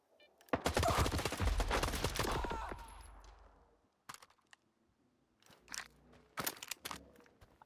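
Dense burst of automatic gunfire in S.T.A.L.K.E.R. 2, a loud rattling volley lasting a few seconds and then tailing off, followed by scattered single shots and impacts with quieter gaps.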